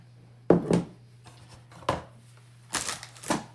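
A spoon scrapes and crunches through a dry homemade bath salts mixture in a bowl. Several distinct gritty strokes come in short bursts over a low steady hum, with no talk.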